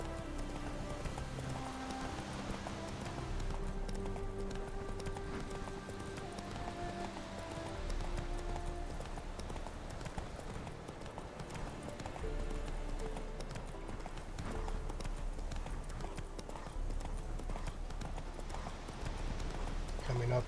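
Roach the horse galloping in The Witcher 3, with steady rhythmic hoofbeats under game music and a voice, a continuous moderate drumming with a faint rain-like patter.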